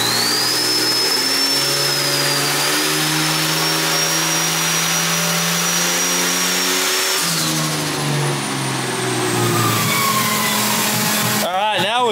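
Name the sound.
twin turbo Ford AU Falcon engine running on dyno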